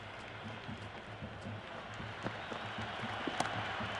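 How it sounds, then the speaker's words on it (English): Simulated stadium crowd in Cricket 26 during a T20 match between Pakistan and England, a steady broad roar of cheering with a few sharp bat-like knocks and peaks near the end. "It's evident and ever so audible that the crowd is at near bursting point at today's play."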